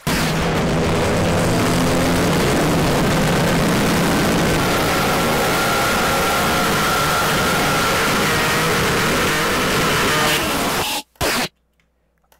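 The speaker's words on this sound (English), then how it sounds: "taking off in a jet." Loud, continuous jet-like engine roar as an aircraft takes off in a deep-fried, distorted Minecraft game, a dense rumble sustained for about eleven seconds before cutting off abruptly into near silence.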